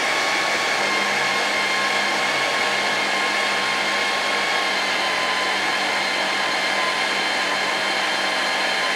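A kitchen blender whirs steadily at full speed, blending garlic with ground ivy; the loud, even motor hum runs unbroken for the whole stretch with no talk over it.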